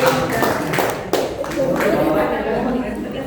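Audience clapping at a public-service training session, a few loose scattered claps with louder individual hits, mixed with room chatter and a voice speaking over it.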